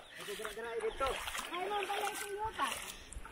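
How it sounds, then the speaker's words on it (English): Bare feet wade across a shallow river in rural Cebu, Philippines, splashing and sloshing water in short bursts while a person talks over it close up. "I'm now crossing the river. I have to take off my shoes."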